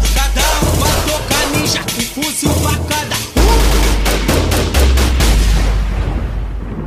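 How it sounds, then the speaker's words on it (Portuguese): Gunshot and gunfire sound effects inside a 2014 Brazilian funk medley by MC Kauan, with loud, dense bursts of fire and booms layered over a heavy bass beat. "Tiro, tiro, tiro, tiro, tiro, pra cá."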